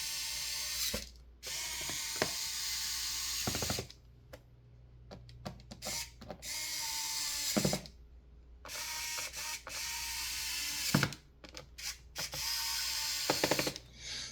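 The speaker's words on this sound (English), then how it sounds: "now remember to put those screws back" Screwdriver driving laptop cover screws back in, quick repeated ratcheting clicks in bursts with short pauses, close and fairly quiet with no talk.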